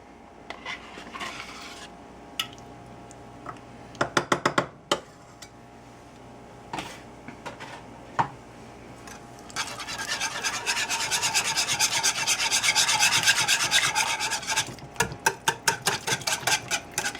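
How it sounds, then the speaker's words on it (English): A utensil stirs sour cream into chicken enchilada filling in a pan, with rhythmic scraping and rubbing against the pan, scattered sharp clinks, and a denser run of fast scraping strokes in the middle, close and without talk. "And just stir it."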